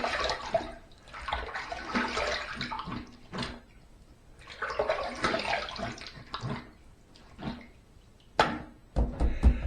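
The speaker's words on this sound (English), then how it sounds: "Let's rinse." Running tap water splashes as an adjustable injector-blade razor is rinsed, coming in two long bursts of hissing flow with brief pauses, then sharp clacks as the razor is tapped against the sink.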